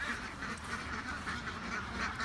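Ducks on a homestead quack in a steady, repeated chorus of calls, fairly close and alone with no talking, layered over a constant low rumble of outdoor background noise.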